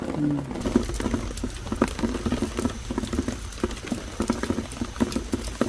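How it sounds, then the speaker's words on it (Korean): Summer rain patters steadily over a countryside vegetable garden with peach trees, blueberries and cucumbers, dense irregular droplet taps close by with no other sounds. "모처럼 비가 오네."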